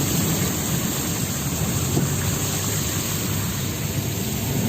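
Heavy rain pours onto a city road in Muscat, Oman, a steady, dense roar with a faint low rumble underneath, continuous and fairly loud throughout with no voices.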